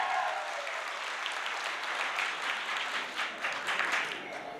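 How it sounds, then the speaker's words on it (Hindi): A seminar audience bursts into loud, sustained applause, a dense wash of many hands clapping steadily for nearly five seconds with no speech over it. "अगर मस्ती में जिंदा तो एक बार जोरदार ताली होनी चाहिए।"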